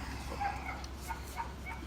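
Several dogs on a farm whimper and give short yips, fairly close, over steady outdoor background noise, with no talk.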